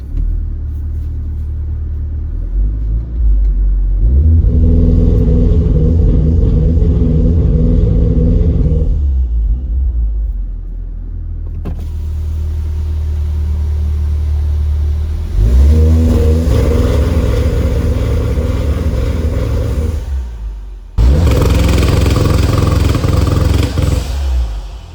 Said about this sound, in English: Last but definitely not least, my personal favorite, the launch control.